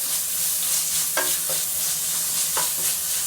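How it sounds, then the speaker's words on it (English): Onion sautéing with salt in a hot pan for a Kerala crab curry, a steady close sizzle broken by a few sharp scraping stirs. "Saute the onion till it's golden brown."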